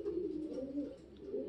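Van Indian pigeon cooing close by, a soft, low, rolling coo that runs unbroken through the moment.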